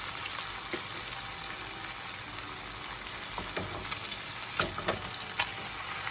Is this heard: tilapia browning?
yes